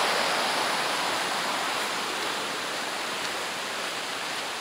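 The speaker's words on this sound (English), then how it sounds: "As you see, this little stream here." A small mountain stream flows steadily on a hiking trail, a dense, constant rush of water with no voices, holding an even loudness for the whole stretch.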